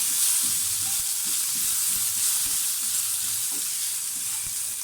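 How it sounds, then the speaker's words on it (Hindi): Curry leaves and a tomato-onion chutney paste sauté in a pan with a continuous bright sizzle and hiss, alongside soft stirring sounds, with no voices. "करी लीव्स डाल दें और मैं इसमें से पेस्ट बना के ले आई हूँ और थोड़ा सा इसको सौते करें"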